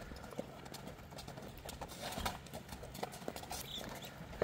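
Horses at a sale, including Kyrgyz and European breeds, walk with a steady clip-clop of hooves on hard ground, close by and continuous under faint background noise.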